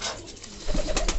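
Pigeons coo in a breeding loft, soft low murmuring calls rising in the second half, several birds close by with no talk.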